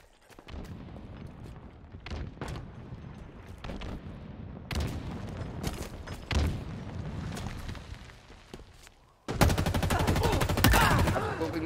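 A grenade thrown in a Halo Infinite multiplayer match, heard amid a string of sharp gunfire bursts and booms, closing with a loud, dense volley of blasts near the end, with little talk.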